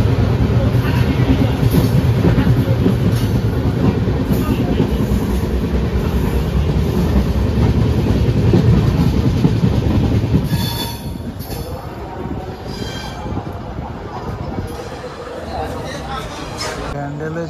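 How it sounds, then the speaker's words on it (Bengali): Kamrup Express, a passenger train, pulls out of a station after a short halt, its loud rumbling wheels and squealing rails close by, easing off into a quieter clatter over the final seconds. "এখানে 2 মিনিট হল্ট থাকার পরে আমাদের ট্রেন ছেড়ে যাচ্ছে।"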